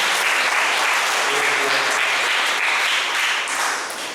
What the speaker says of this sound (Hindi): क्यों ना हम परमेश्वर के लिए जोरदार ताली बजा के इस समय